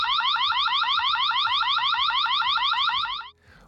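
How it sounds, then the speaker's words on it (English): Reli Light Cam security camera sounding its alarm, a loud, close, rapidly warbling electronic siren that repeats steadily for over three seconds and then cuts off abruptly. "You can also set off an alarm that is quite loud."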